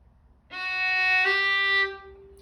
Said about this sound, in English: you connect the notes that are slurred in 1 bow